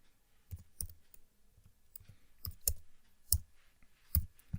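Computer mouse clicking on a Windows 11 PC, a series of sharp, quiet, close clicks spaced irregularly over a few seconds, heard alone with no talking.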